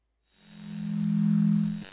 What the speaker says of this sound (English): So this is electromagnetic noise that I've recorded.